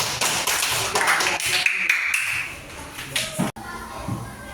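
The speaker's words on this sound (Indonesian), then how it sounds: "Tepuk tangan untuk kelompok." A classroom of primary school children claps for a group, a burst of many quick overlapping hand claps with some children's voices, fading out before a final thump and quiet room.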